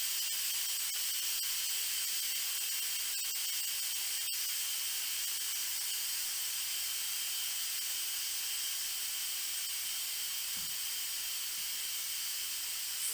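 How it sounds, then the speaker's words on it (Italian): Steam hisses steadily from the valve of a multifunction electric pressure cooker after cooking risotto, a loud continuous high-pitched jet with a few faint clicks, no talking. "volete svuotare la valvola del vapore più velocemente, potete anche tenerla premuta più a fondo"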